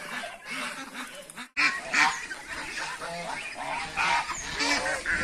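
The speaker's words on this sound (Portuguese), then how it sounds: "Ele é um ganso africano, ele é muito bonito e muito manso." A tame African goose honks repeatedly and loudly, close by, in a rhythmic series of nasal calls. After a brief pause it continues with harsher, overlapping honks.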